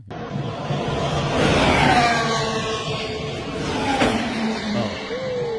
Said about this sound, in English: these cars are going down the Las Vegas Strip at over 180 miles an hour.